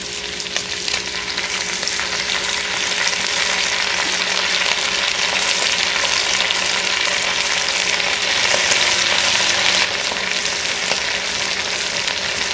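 Beef frying in rendang sauce in a pan while being stirred, giving a loud, continuous, dense sizzle that holds steady throughout, with no one speaking.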